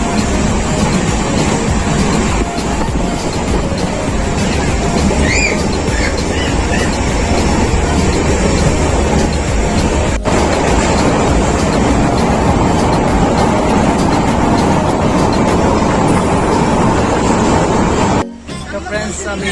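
Passenger train running along the tracks between Goalpara and Alipurduar, a steady loud rumble and rattle heard from inside a carriage with faint babble of people in the background, ending in a sudden abrupt drop.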